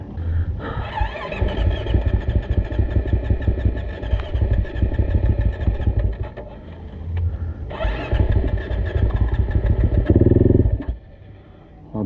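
A dirt bike engine on a hard enduro course revs and sputters up close, loud and uneven, rising and falling with throttle bursts, briefly dropping to a rough idle before revving again.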